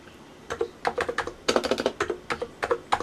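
Someone types on a computer keyboard at a Windows PC, close and crisp, with a run of irregular key taps and short quick bursts, no talking.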